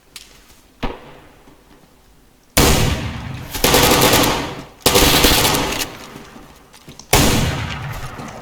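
Gunfire in the DayZ survival game, where a shotgun is in use: a single distant crack, then three loud, close blasts spaced a couple of seconds apart, each trailing a long echoing decay.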